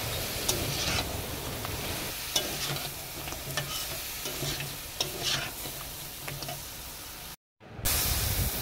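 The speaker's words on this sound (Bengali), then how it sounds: "এবার আমি ভালোভাবে মশলাগুলো দিয়ে নেড়ে নেব।" Ground cumin, chili powder and ginger-garlic paste stirred in a hot pan for Bengali crab curry, with continuous sizzling and repeated spoon scrapes and taps, close up with no voices, then a brief dropout before the sizzle returns.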